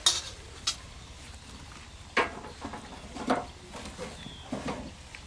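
Shankarpali dough pieces frying in hot oil, a faint steady bubbling hiss punctuated by occasional clinks and scrapes of a spoon in the pan, close but quiet.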